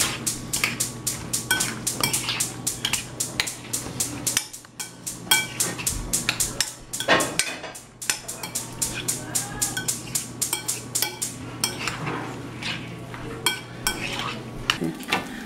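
Spoon scrapes and clinks against a bowl as salmon is stirred into pico de gallo salsa, rapid irregular taps and scrapes close by, with a low hum underneath and a quiet pause midway.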